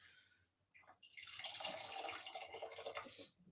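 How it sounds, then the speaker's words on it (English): Water is poured into a cooking pot as a steady, close splashing stream that runs for a few seconds and then stops, with no talking. "But I'll add some more water and put the lid on."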